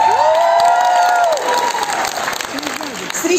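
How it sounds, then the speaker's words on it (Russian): Crowd applause at a Faberlic gold directors' celebration in Azerbaijan, steady clapping under a loud host's voice and tonal music, continuing throughout without a break. "Аплодисменты!"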